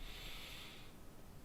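A person inhales through the nose during a yoga session done in bed, one audible, snort-like intake of breath lasting under a second, close and fairly soft, then quiet.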